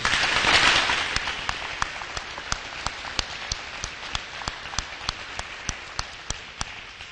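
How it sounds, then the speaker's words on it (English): Applause from the audience at a county election candidates forum, a broad wash of clapping that swells early and then thins to a sparse patter of individual claps across the clip. "let's give the candidates a big round of applause"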